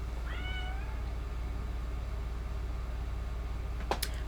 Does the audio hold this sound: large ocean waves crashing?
no